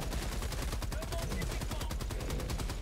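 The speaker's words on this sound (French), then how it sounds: "Je déploie une tourelle de ravitaillement, mitrailleuse lourde, à volonté!" Heavy machine gun turret firing continuously in Helldivers 2, a rapid steady stream of loud gunshots with no pause, dense and close throughout.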